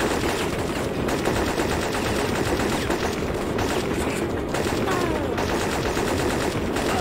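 Sustained gunfire from a Syphon Filter mission set on a subway line, dense and continuous rapid shots filling the whole stretch at steady loudness, with no talk over it.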